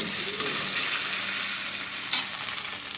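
Masala sizzles steadily in a pan for Mangalore-style crab sukka, a close, even, crackling hiss that runs unbroken throughout with no one talking.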